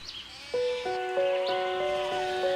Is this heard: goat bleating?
yes